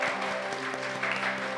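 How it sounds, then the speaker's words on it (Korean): A church congregation claps together at a Sunday worship service to welcome a visitor, a brief, fairly soft burst of even, sustained applause filling the room. "우리 박수로 환영하겠습니다."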